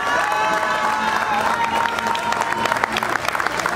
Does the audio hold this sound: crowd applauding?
yes